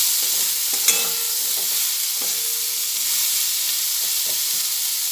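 Vegetables fry in a pan for a Bengali mixed-vegetable curry, a steady close sizzle with brief clinks and scrapes of stirring, no voices.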